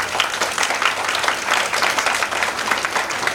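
An audience at a spiritual talk claps steadily, a dense, even patter of many hands filling the space, fairly loud and unbroken throughout, with no talking over it.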